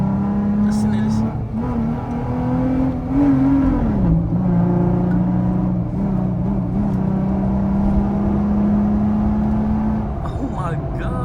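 A straight-piped Jeep Wrangler engine roars loud and close, holding a steady droning rev with small swells as the throttle shifts. Voices chatter faintly underneath.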